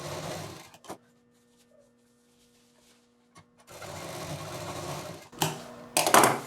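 A sewing machine runs a long straight stitch on a shoulder bag with three pockets, a near, steady whirring burst, then a pause with quiet handling before another long run and a few short, louder spurts of stitching.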